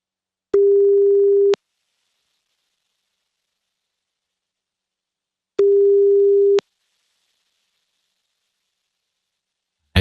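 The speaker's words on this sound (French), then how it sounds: "C'est parti, ça sonne." A telephone ringback tone on a call: two steady one-second beeps about five seconds apart, clean and loud with silence between them.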